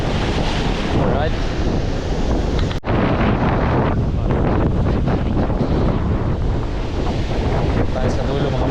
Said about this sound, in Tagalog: Hindi masyadong malakas ang hangin.